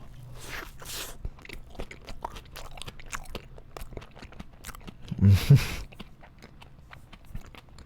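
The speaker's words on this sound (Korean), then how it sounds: "그래서 좀만 더 먹을게요." Someone bites and chews a fresh kiwi sandwich close up, giving soft, irregular mouth sounds with a louder burst of chewing near the end.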